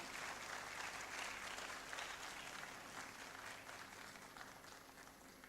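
Steady applause from a morning audience at an AI book launch, welcoming a speaker to the stage; dense, even clapping that fades slightly toward the end.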